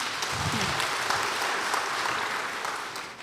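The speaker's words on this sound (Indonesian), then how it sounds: "Kita kasih aplaus dulu Bapak Ibu." A church congregation at a Sunday service claps together in a sustained, even round of applause that fills the room at steady loudness for a few seconds before easing off slightly.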